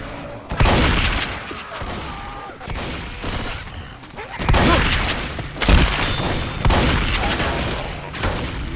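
Shotgun blasts in the zombie shooter Left 4 Dead, a series of loud, booming shots spaced about a second apart with ringing decay, mixed with game ambience and occasional voices.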